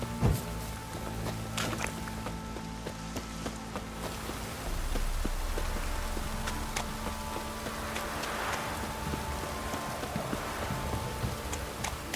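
Rain downpour in the video game The Witcher 3 falls on surfaces with scattered patter and drips, moderately loud and continuous, with occasional louder knocks.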